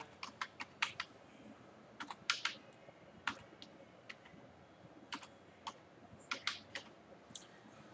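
Quiet keyboard typing as an Aadhaar number is entered on a computer, irregular bursts of crisp key clicks in short clusters with pauses, close and faint.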